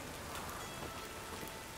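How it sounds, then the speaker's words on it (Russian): Steady rain falling in The Witcher 3: Wild Hunt, a continuous even hiss of drops on surfaces with no voices, filling the whole short stretch at a constant moderate level. "Блин, еще дождь пошел."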